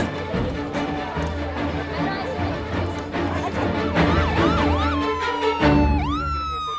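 An ambulance siren wails in rising and falling sweeps over busy background noise, growing clearer toward the end.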